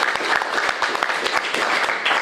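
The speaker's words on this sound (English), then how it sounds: "Let's give them a round of applause." A crowd claps steadily, a dense round of applause.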